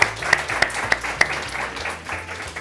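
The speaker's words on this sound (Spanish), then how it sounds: "Venga, un aplauso para Paco." Scattered clapping for Paco on a Spanish television game show, a few distinct claps rising above a low background hum.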